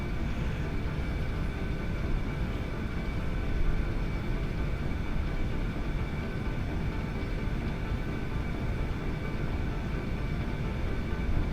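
Airplane rolling out on the runway after landing in the X-Plane 11 simulator, a steady engine drone and rumbling roll noise holding constant throughout.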